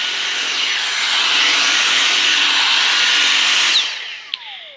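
A Dyson V6 Total Clean cordless stick vacuum runs with a steady, loud, high-pitched whine for about four seconds, then shuts off and spins down, with a small click at the end.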